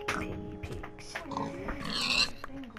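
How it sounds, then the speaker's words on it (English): Pigs oink and grunt in the Minecraft PlayStation 4 Edition game, several short snorting calls close up over steady game background sound, with a brief brighter burst near the end. "Some piggy pigs."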